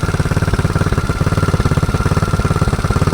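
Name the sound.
Predator 224 engine on mini quad running rough, idling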